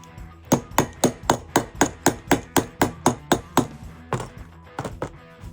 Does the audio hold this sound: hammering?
yes